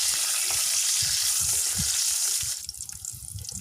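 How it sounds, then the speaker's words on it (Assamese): Almonds, raisins, cashews, cardamom and bay leaf sizzle steadily in hot refined oil for semolina halwa, a dense continuous frying hiss that quiets slightly near the end. "বাদাম, কিচমিচ আৰু কাজু, ইলাচি, তেজপাত তেলত দি দিছোঁ।"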